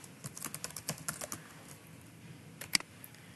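Fingers type text on a computer keyboard, about a dozen quick close key clicks in an uneven burst, then a pause and a final sharp pair of keystrokes, with no talking.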